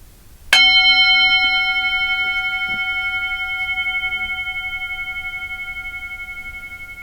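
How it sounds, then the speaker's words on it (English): A single bell strike rings out clearly, then its tone hangs and slowly fades, sustained for several seconds with nothing else in the background. "I'm going to ring the bell."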